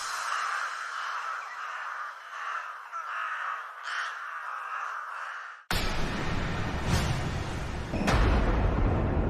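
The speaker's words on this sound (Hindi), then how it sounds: "जहां चील कौए उसकी लाश को नोचते रहे" Crows cawing at a cremation ground, several harsh caws repeating over a steady background, with a louder, fuller section after an abrupt change partway through.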